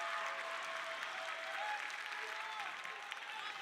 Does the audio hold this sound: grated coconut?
no